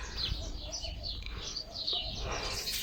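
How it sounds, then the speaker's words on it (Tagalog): Many birds chirping and calling outdoors, including cooing pigeons or doves, a busy overlapping chorus of short tweets and calls at middling distance with some low rumble beneath. "Ang daming ibon. Ang ingay-ingay."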